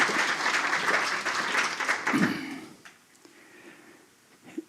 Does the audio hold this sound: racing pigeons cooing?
no